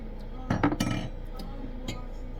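Metal cocktail shaker and its lid clinking against glass while making an old fashioned, a quick cluster of bright clinks followed by one more later, close and fairly quiet over low room noise.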